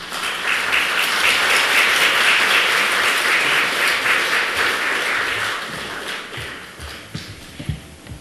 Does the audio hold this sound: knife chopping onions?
no